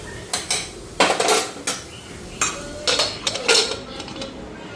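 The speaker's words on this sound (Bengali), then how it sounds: "আর ঢাকনাটা লাগাই দেই" Metal pot lid clattering onto a cooking pot during home cooking of a potato dish, a handful of sharp clanks and rattles in quick bursts, close by with no talk.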